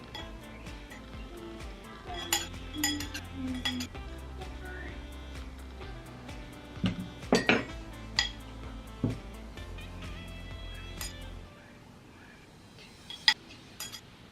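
Bath bomb powder is mixed in small bowls with light clinks and taps of a utensil against the bowls, scattered sharp knocks over a low steady hum, with a few louder clatters in the middle.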